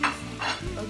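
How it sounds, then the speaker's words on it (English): Roughly two pounds of chorizo, cut into half-inch pieces for Spanish paella, hitting a hot pan with a brief close sizzle and stirring scrape. "we're going to add our about 2 pounds of chorizo, which I cut up into about half an inch"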